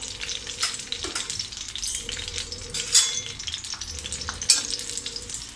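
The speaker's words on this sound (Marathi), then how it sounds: "थोडं आपण परतून घेऊया" Green chillies sauté in hot oil for a Malvani-style radish dish, a dense, close crackling sizzle running throughout, broken by occasional stirring scrapes and a couple of sharp spatters or clinks.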